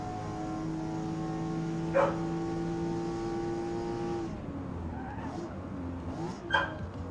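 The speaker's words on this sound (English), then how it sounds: "my dog is losing his shit. Sorry if you can hear that." A dog barks indoors, with two sharp yips standing out over a steady race-car engine drone from a driving game and quieter background sounds.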